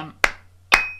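Two crisp hand claps land about half a second apart in a looped warm-up rhythm, close and alone over a faint steady hum.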